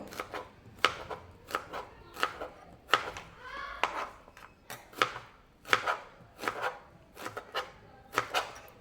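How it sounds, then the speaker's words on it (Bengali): A knife cuts ash gourd into long strips on a board, giving about a dozen sharp, evenly spaced chops close by in a steady rhythm. "এবার আমি এগুলোকে একদম লম্বা লম্বা করে কেটে নেব"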